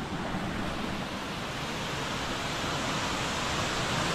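A large mountain waterfall on the Madmaheshwar trek, a steady, dense, loud roar of rushing water filling the whole stretch with no voices.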